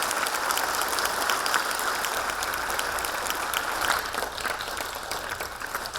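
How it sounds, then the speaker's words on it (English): Warm, enthusiastic applause from an audience welcoming a Khenpo to give a Buddhist teaching, a dense steady clatter of many hands clapping that holds loud and even for the whole stretch with no talk over it. "with a truly enthusiastic and warm round of applause, let us welcome him"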